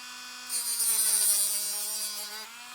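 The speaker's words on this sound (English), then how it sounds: "We'll take and grind that again. We're just trying to take any burrs off." A rotary tool grinds burrs off the edge of a metal spoon pendant, a steady high whine with a faint hum underneath that swells after half a second and holds evenly before easing off near the end.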